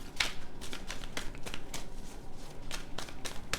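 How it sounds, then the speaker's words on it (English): Rapid riffling bursts of tarot cards being shuffled, several quick flurries in a row, close and crisp against a quiet room. "One more shuffle."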